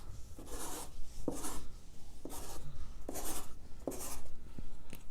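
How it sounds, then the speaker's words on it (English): Repeated marker or chalk strokes scratching across the face side of fabric, a steady series of short rubbing swipes at close range with no talking. "I'm going to mark the face side."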